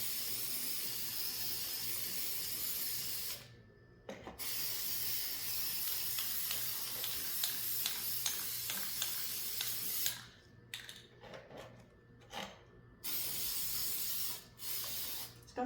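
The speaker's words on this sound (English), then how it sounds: "I think I'm just going to spray paint it like this." Spray paint hisses in steady bursts onto a ceramic deer, laying down a thin antique brass or bronze coat, with brief pauses near four seconds and a choppier stop-start stretch toward the end, close and moderately quiet.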